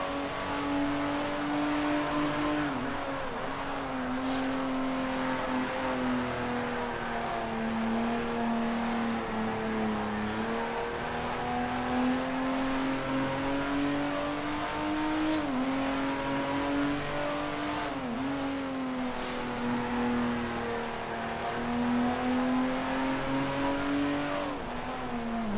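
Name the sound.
race car engines in video game Grand Prix Legends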